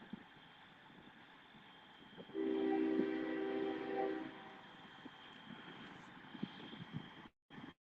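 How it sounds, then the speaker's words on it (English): A train rolls slowly through a road crossing, with a steady rumble of rail cars and a loud, sustained horn blast in the middle before the clatter carries on more quietly. "the trains are going to come through here very slow until they get past the intersection"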